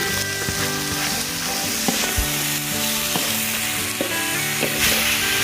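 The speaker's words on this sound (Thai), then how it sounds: "เดี๋ยวจะเอาเห็ดลงไปในกระทะนะคะ" Mushrooms frying in a hot pan with a steady loud sizzle and crackle, punctuated by scattered clicks and knocks of stirring utensils, with no talking.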